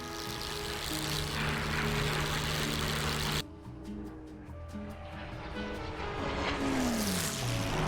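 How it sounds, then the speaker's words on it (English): Steady, droning propeller engine of a P-51 fighter in DCS World, a loud continuous rumble that cuts to a thinner cockpit tone midway, then swells again as the pitch slides down near the end. "The sound of the planes are better than IO2, I feel."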